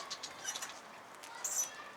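Pigeons coo softly by an opened coop, faint and distant, with light chirps and rustling over a steady outdoor hiss.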